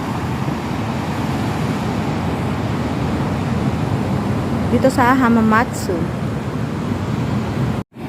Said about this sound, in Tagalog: ang lakas ng alon pero hindi naman siya malakas ang hangin